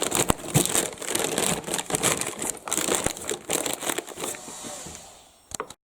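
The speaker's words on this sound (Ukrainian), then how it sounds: "Запакували, далі замотуємо скотчем" Close crinkling and rustling of packaging with scrapes and crackles as tape is pulled and wrapped around a parcel of car engine parts, ending in a few sharp clicks.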